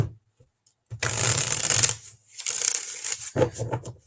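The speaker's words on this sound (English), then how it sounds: "One more shuffle." Close, crisp card shuffling: a long riffle followed by a second shorter riffle and a few soft taps, with no talking.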